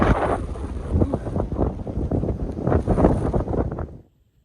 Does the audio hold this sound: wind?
yes